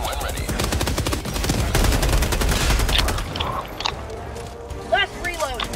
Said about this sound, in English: Reloading machine gun.